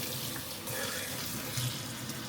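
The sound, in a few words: tap water washing an ice cube tray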